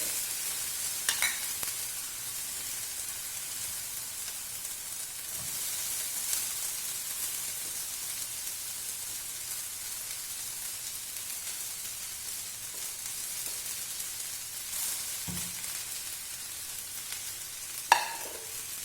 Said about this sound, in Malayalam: റൈസ് ഇതിലേക്ക് ഇട്ട് കൊടുത്താൽ നന്നായി മിക്സ് ചെയ്ത്